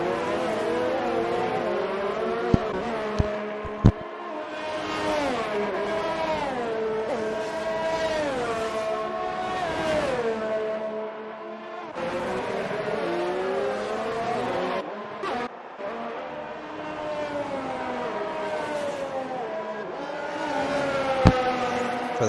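Formula 1 race cars in the F1 Online video game at the Austria circuit, engines howling loud and close as they rev up and drop through gear changes, with a few sharp clicks and no talking.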